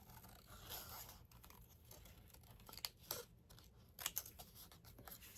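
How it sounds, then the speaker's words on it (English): Scissors fussy cut around a paper card element in a series of quiet, close, irregular snips and soft paper rustles, with no voices. "I'm just going to fussy cut this real quick"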